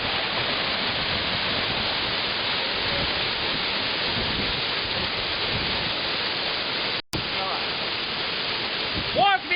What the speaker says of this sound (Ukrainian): Женевський водоспад.